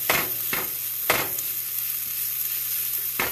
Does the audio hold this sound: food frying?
yes